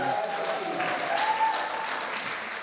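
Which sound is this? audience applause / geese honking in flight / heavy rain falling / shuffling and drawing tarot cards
audience applause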